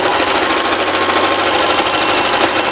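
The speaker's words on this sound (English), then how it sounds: "we're just going to go ahead and start zigzagging down this side and around" A sewing machine runs a zigzag stitch down the side of a fabric baby bib and apron, a loud, fast, continuous mechanical chatter heard close up without any speech.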